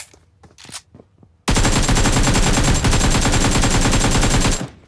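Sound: gunfire in a video game

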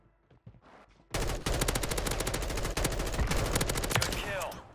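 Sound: gunfire in Warzone video game

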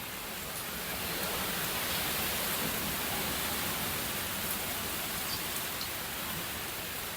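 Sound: strong wind

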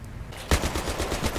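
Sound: gunfire in Battlefield 3 video game

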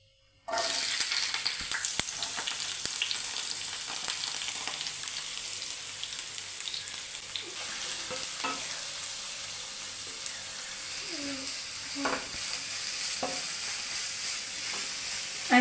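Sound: sautéing onions in a pan

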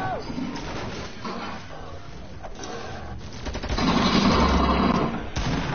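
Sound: gunfire in a video game

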